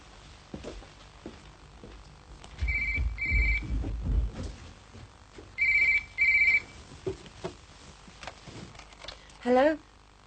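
A telephone rings indoors in two distinct bursts of double electronic trills, moderately loud, with quiet rustling and footsteps around them and a brief voice near the end.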